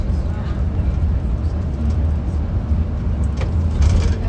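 A car drives along a road on the Snæfellsbær peninsula in Western Iceland, passing the village of Rif, giving a steady, close low road rumble and engine hum that holds through the whole stretch.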